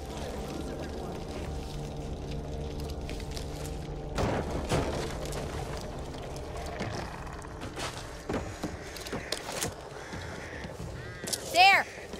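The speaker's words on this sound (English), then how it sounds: "Birds! Big black scary birds!" Crows caw within the video game Back 4 Blood, a few harsh calls standing out over a low droning game soundscape with scattered thumps, the loudest burst arriving near the end.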